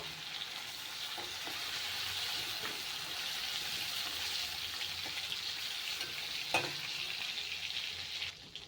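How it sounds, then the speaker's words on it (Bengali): Shrimp sizzle in a hot pan in a home kitchen, a steady close hiss with occasional scrapes and knocks as they are stirred, no talk. "মাছটাকে আমি নেড়ে চেড়ে ভেজে নিয়েছি"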